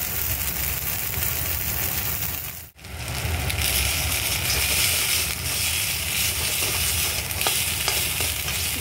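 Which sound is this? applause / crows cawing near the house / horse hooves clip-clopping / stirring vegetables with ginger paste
stirring vegetables with ginger paste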